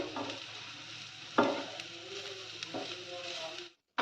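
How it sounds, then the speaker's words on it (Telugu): Egg fried rice with vegetables, pepper powder and cumin powder is stirred and spread in a pan. A low sizzle runs under scraping strokes, with one sharp knock partway through before the sound stops abruptly. "మనం మిరియాల పొడి, జీలకర్ర పౌడర్ వేసి ఒకసారి ఇలా రైస్ అంతటిని వెజిటబుల్తో సహా స్ప్రెడ్ చేసుకోవాలి"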